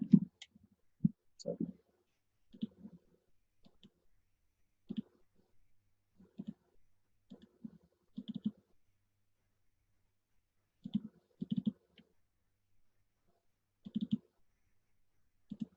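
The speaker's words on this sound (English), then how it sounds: "Then you have to click on submit." Computer mouse clicks during software work, sharp isolated taps arriving singly and in quick pairs at irregular intervals, close and fairly soft against near silence.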